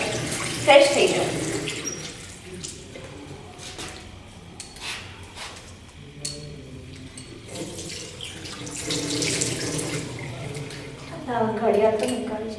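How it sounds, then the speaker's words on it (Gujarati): Water runs steadily from a tap into a sink in a large, empty bungalow, a continuous splashing stream that swells and eases, with voices talking over it. "અરે વાહ, પાણી તો આવે છે."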